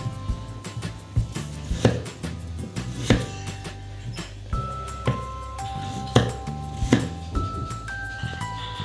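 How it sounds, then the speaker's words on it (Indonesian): A knife dices potatoes on a cutting board in a home kitchen with a series of sharp, irregular chops, while light background music plays under the cutting. "ini kentangnya ini kita potong-potong juga berbentuk dadu"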